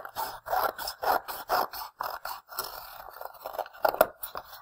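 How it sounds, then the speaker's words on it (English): Scissors snipping through folded fabric while cutting out a mitten pattern: a close series of short rasping cuts in a quick irregular rhythm, with a brief pause midway before a few more snips. "while this is still folded, I'm going to cut it out"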